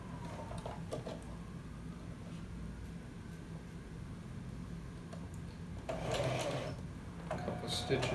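Home sewing machine stitching a shirt sleeve, a faint rapid mechanical whir with a low hum running steadily throughout, quiet and close, with handling clatter near the end.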